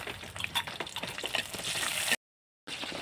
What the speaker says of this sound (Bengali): শুকনো লঙ্কাটা একটু ভাজা ভাজা হয়ে গেছে